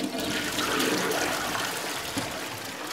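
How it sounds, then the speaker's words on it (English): A toilet in a newly renovated bathroom gives a full flush, a loud, steady rush of water running throughout, close by and with no talking over it. "So, full flush."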